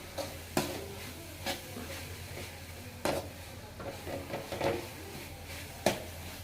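Spices for a Chennai-style chicken gravy sautéing in oil, with a faint sizzle beneath occasional sharp spoon knocks and scrapes against the pan, quiet and close.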